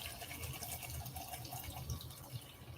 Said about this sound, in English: Let me pour my water.